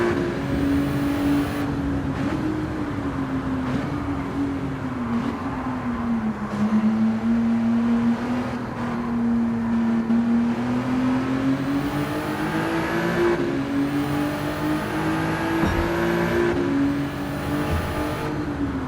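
An overpowered race car on racing tyres roars through its gears in Gran Turismo 7, a loud, sustained engine drone that rises and falls with each shift and carries on throughout.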